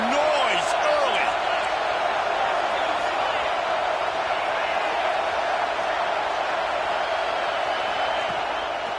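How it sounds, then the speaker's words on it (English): Steady roar of a football stadium crowd at a Texas A&M game against Auburn, a dense continuous wash of voices and cheering with a few whoops rising above it, holding loud and even throughout. "This crowd bringing the energy and noise early."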